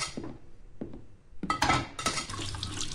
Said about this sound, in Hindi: ठीक है, वॉश डिशेस आखिरी काम रह गया